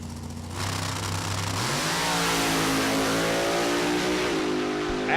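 A drag racing bracket car launches and accelerates hard down the strip, its engine note climbing steadily and loudly through the gears, with a sustained roar and no talk.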